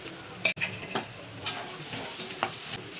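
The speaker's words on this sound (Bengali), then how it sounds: "পেঁয়াজটাকে একটু লাল লাল করে ভেজে নেবো।" Chopped onion fries in mustard oil in a pan, a soft continuous sizzle broken by a few short stirring scrapes and clicks, close and fairly quiet with no talk.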